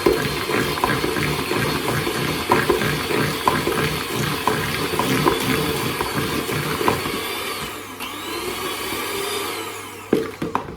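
An electric hand mixer whirs steadily as it beats eggs into a gluten-free Christmas cake batter, a close, noisy buzz that eases off and briefly cuts out near the end.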